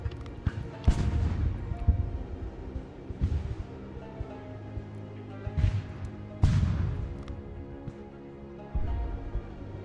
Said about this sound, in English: Let me get my cannons to stop firing.